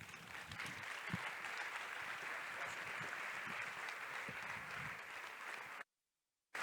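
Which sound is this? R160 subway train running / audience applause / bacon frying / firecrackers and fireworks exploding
audience applause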